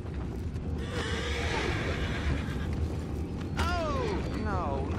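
A horse in the Red Dead Redemption 2 video game lets out a couple of sharp whinnies over a steady background of ambient game noise and hooves, with a voice talking faintly.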